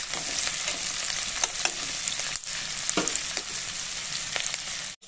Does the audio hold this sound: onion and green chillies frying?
yes